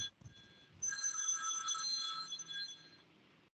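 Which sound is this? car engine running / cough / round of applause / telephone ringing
telephone ringing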